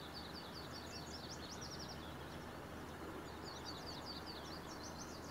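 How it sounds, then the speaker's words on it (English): Bird calls in the video game Farming Simulator 19 on a South Brazilian map: quick repeated high chirps in two faint bursts over a steady low engine-like hum. "What on earth is that noise? That's certain birds."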